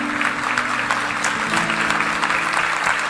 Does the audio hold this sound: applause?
yes